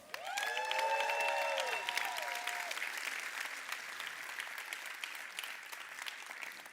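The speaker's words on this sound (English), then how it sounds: "Give Beyond a huge round of applause" Audience applause at a My Daily Choice company event welcoming the Beyond brand, a crowd clapping steadily and moderately loud, with a brief musical sting at the start before the clapping thins slightly.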